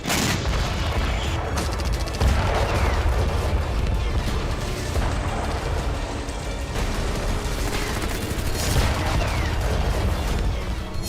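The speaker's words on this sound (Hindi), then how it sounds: "यमन विध्वंसक हथियारों और टैंक के साथ युद्धाभ्यास कर रहा है।" Gunfire and booming blasts from a Yemeni military exercise with heavy weapons and tanks, a dense continuous barrage of loud cracks and rumbling booms with no pauses.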